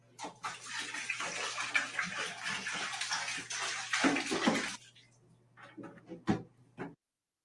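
A bathtub filling with water for a bath: a loud, steady rushing gush runs for about five seconds, then cuts off, leaving a few soft splashes and knocks.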